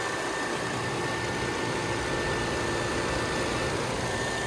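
A 2002 Toyota Avalon six-cylinder engine idles quietly with the hood open, giving a steady, even hum with faint hiss and no change in pace.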